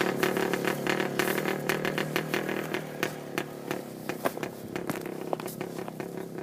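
An Izh Planeta 2 motorcycle engine runs steadily close by, its mid-range drone broken by irregular sharp pops and small revs, with no talk over it.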